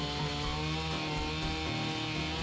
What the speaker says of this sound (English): let the chainsaw do the work